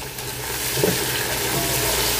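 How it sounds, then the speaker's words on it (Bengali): Chopped tomato hits fried onion in hot oil for a chicken curry, making a loud, continuous sizzle up close with faint stirring underneath and no voices. "এখন আমি এখানে দিব হচ্ছে টমেটো কুচি, একটা বড় টমেটো এখানে দিয়ে দিলাম।"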